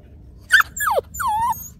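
Six-week-old puppies whimper and yip in three short, high, sliding cries close by, with brief silences between them and no talk.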